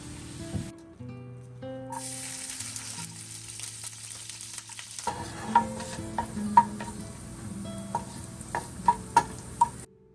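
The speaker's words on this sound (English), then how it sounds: "I started by frying up the corn tortilla shells" Oil sizzles steadily in a pan as corn tortilla shells fry, with occasional sharp pops and light clinks of a utensil over a low hum.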